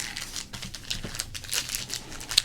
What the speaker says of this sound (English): Let's get to some crinkling.